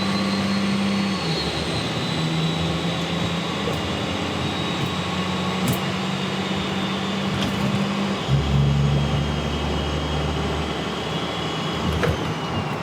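A compound-turbo 5.9 Cummins diesel truck engine roars as it accelerates in tow haul mode, its exhaust note climbing through gears with a brief shift partway through.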